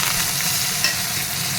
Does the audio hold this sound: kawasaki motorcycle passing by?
no